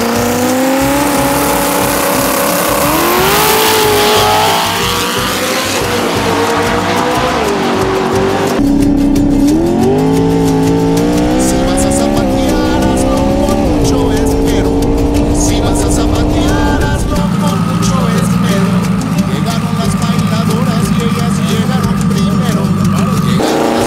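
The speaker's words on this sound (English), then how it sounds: "Two-wheel drive burnouts." A pickup truck does two-wheel-drive burnouts at a truck contest: a loud engine revs and strains close by, with tire squeal and roaring spin, and voices at times.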